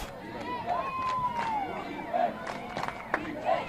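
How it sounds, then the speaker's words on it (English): Spectators at a NHIAA Division 1 girls lacrosse semifinal in Bedford chant for defense, a rhythmic massed shouting from the stands at moderate distance, mixed with crowd hubbub and scattered individual voices. "Now the Bedford crowd, you can hear them chanting defense."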